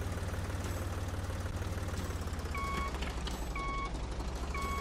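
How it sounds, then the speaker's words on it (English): Farm tractor engine in the Professional Farmer 2014 video game, a steady low diesel drone running throughout, joined midway by repeated high electronic reversing beeps at a regular rhythm. "Tractors going by"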